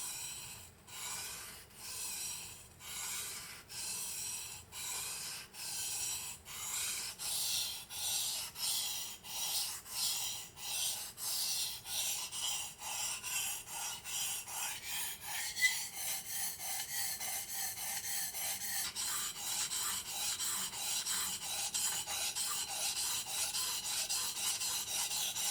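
Knife sharpened on a sharpening stone, a rhythmic run of close rasping strokes that start slow and even, then speed up into quicker, shorter passes, with no speech.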